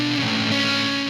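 Ableton Live 10's Pedal device in Distort mode, a sustained buzzing, saturated distorted tone that holds steady and loud for about a second with no talk over it.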